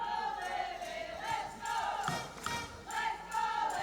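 A handball crowd at an indoor cup final roars and chants in support of Livingston, the rhythmic swells of cheering rising and falling in waves with no clear voice over them.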